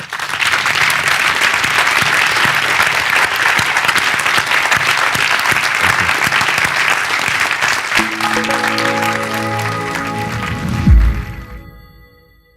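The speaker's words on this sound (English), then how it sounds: "Let's give Phil a round of applause for being here." An audience applauds Philip Zimbardo at a heroism talk event, dense sustained clapping for about ten seconds that thins and fades out, with a brief voice near the end.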